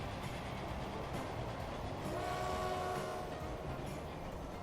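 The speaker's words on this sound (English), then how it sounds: "Oh, here comes the next train." A train arrives in the game Transport Fever, a steady rumbling roll of rail cars with a brief horn-like tone in the middle, moderately loud and without talk.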